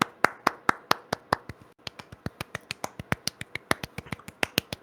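Crisp, evenly spaced hand claps, roughly five per second, close by, with a brief hitch partway through before the beat resumes.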